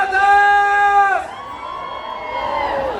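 Married women in the audience at a clown comedy show let out a loud, high-pitched collective shout. It holds steady for about a second, then breaks into a looser mass of wavering yells that lasts the full three seconds.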